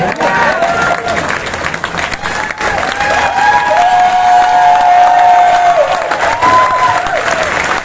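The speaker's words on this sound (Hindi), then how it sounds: "आप तालियां बजाएंगे" Audience clapping and cheering at a business success seminar in Gurugram, loud dense applause mixed with shouts and whistles, with a long tonal whistle or horn-like note rising over the crowd midway.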